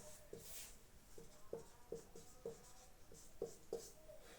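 Pen or marker writing notation on a board during a maths lesson, a series of short scratchy strokes in an uneven rhythm, quiet and close, with no talk.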